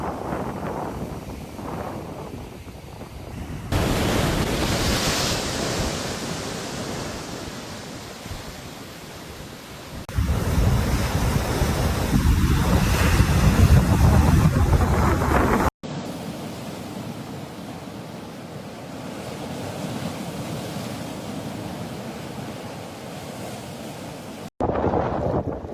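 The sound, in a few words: storm waves from Hurricane hitting Outer Banks coast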